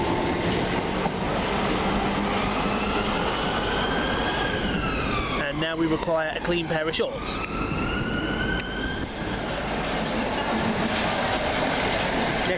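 A Thameslink Class 319 electric train at Farringdon station, London, passing on a steady rumble with a rhythmic clatter of wheels over joints midway, then rising whine as it moves off; someone speaks briefly.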